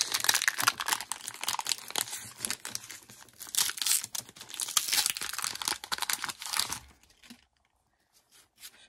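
Crinkly plastic wrapper of a Pokémon card booster pack being torn open and crumpled, close and busy for about seven seconds before falling quiet with a few faint rustles.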